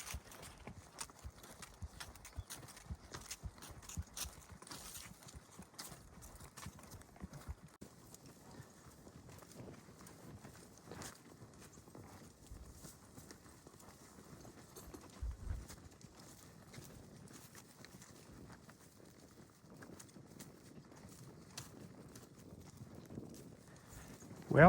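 Horse hooves clip-clopping steadily while riding through a pasture to gather cows among fall colors, a continuous faint rhythmic walk with occasional bird calls in the background.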